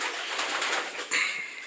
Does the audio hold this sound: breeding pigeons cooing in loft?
yes